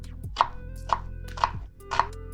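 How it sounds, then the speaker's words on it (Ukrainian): A knife dices onion into cubes on a board in four sharp, evenly spaced chops, crisp and close, with a low steady hum underneath. "Цибулю нарізаємо кубиками."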